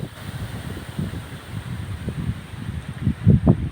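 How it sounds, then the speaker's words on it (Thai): Strong wind blows across a rice paddy field, a steady rushing roar with low microphone buffeting that swells in gusts toward the end, with no voices. "ลมแรงมากนะครับลมแรงมากทีเดียว"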